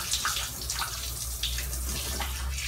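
Liquid pours steadily into the intake manifold of a Hemi 5.7 engine, a continuous close splashing and gurgling with small bursts, heard alone without talk.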